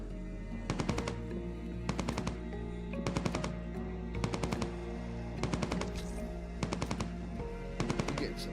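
Rapid bursts of automatic gunfire repeat at a regular pace in Entropia Universe, each volley short and sharp against a steady droning background, with no talking.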